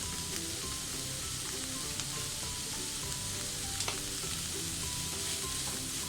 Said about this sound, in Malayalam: ഇങ്ങനെ പതുക്കെ അങ്ങോട്ട് വഴറ്റി കൊടുത്താൽ തന്നെ ഈ ബ്രോക്കോളി പെട്ടെന്ന് അങ്ങ് വെന്ത് കിട്ടും നമുക്ക്.